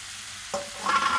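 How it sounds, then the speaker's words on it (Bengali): Long beans stir-frying in a pan for fried rice as capsicum and carrot go in, a short close burst of sizzling and scraping that swells louder toward the end, with no voices. "বরবটিটা হালকা ভাজা ভাজা হয়ে এসেছে, ক্যাপসিকাম আর গাজরটা দিয়ে দেব"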